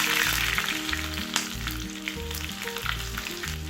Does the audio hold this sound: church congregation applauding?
no